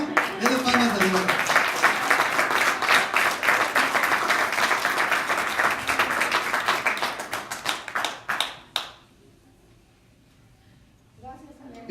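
Church congregation claps for God, a full, continuous round of applause with rhythmic hand claps and some voices, building for about eight seconds before stopping abruptly into near quiet, then a faint sound returns.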